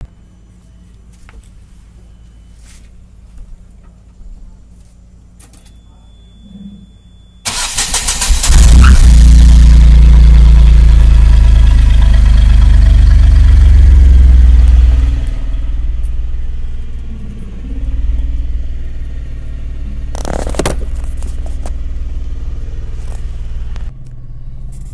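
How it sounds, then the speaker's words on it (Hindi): An Ashok Leyland Dost CNG mini truck is recorded from the exhaust side. After several quiet seconds its engine cranks and catches with a sudden loud roar, then settles into a steady, heavy idling rumble close by. "अब दिखाते हैं आपको एग्जॉस्ट साइड में से किस तरह की स्टार्टिंग आती है इसमें आवाज़।"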